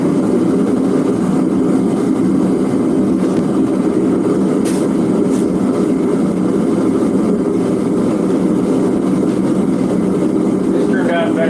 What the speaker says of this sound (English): it sounds like a hot air balloon burner, but it's a jet engine